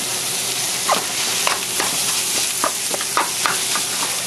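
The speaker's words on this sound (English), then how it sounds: "let's go ahead and add our pork. And our onions." Ground pork and onions sizzle in a pan over medium-high heat while cooking filling for Vietnamese steamed rice rolls, a steady broad frying hiss broken by irregular scraping stirs of a spatula, close and fairly loud with no talking.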